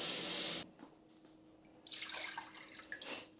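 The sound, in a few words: water being poured into a saucepan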